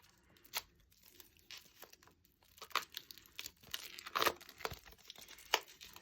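Plastic wrapping is torn off a small sketchbook, making irregular crinkles, crackles and short tearing bursts that grow louder and busier toward the end.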